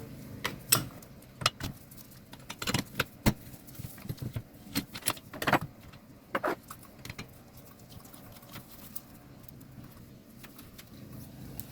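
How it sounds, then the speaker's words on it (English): A spark plug is worked loose and pulled from a Stihl FS45 string trimmer that won't start, producing scattered faint metallic clicks, taps and light scrapes of the tool spread irregularly over several seconds in a quiet space. "we'll just remove the spark plug"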